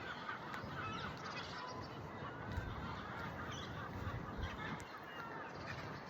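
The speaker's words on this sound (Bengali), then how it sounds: "নিশ্চয়ই আপনারা শুনতে পাচ্ছেন পাখির ডাক।" Geese and other waterfowl honk and call around a park lake in Birmingham, England, the cries scattered over a steady outdoor background, moderately distant and fairly faint.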